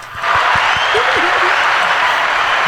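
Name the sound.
audience applause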